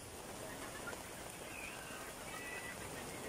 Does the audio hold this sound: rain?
yes